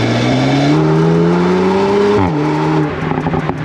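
A 2023 Volkswagen Golf 8R 20 Years limited edition in drift mode revs hard, its engine note climbing steadily and then dropping at a gear change, loud and close, with tire noise under the engine near the end.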